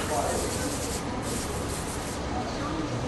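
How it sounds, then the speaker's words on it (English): A steady hiss of neutralizer being sprayed across a floor, continuous and close, with faint shuffling underneath. "we'll spray the floor with the neutralizer"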